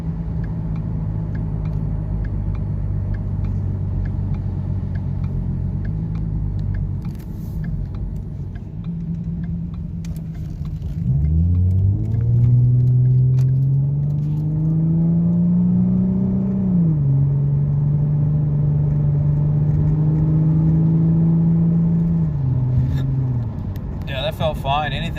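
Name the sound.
2014 Ford Mustang 3.7 V6 accelerating with SCT X4 tune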